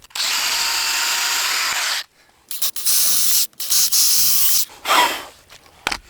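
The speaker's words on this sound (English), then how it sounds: "Why am I using this tiny drill bit?" A power drill with a tiny bit bores into material while building a dog kennel and fence pen: a loud two-second whine, then several shorter stop-start bursts, close up with no talking.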